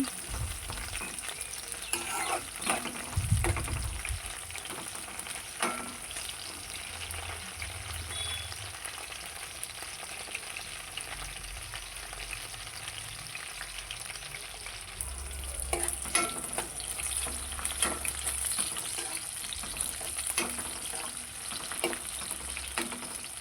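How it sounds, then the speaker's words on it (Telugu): Chopped green chillies crackle and sizzle steadily in a pan for a long stretch. Occasional stirring scrapes and clinks break through the frying, which stays close and even, with no voices. "మధ్య మధ్యలో కలుపుతూ వేయించుకోవాలి"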